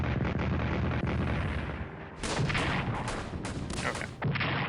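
Artillery bombardment in the World War I strategy game Strategic Command WWI: Call to Arms, a dense, sustained roar of booming shell blasts and crackling gunfire that dips briefly and then swells again with heavy, continuous explosions.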